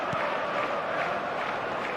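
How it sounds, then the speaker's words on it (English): Stadium crowd in the eFootball 2024 football video game, a broad, steady roar of many voices filling the space, loud and continuous with no clear break. "And expectations are rising and decibel levels are rising. The noise is quite something."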